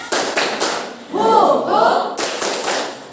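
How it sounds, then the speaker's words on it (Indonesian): Indonesian school class doing a rhythmic spirit clap, a run of evenly spaced hand claps in a short patterned burst, with a teacher's voice and children's chanting around it. "Tepuk semangat."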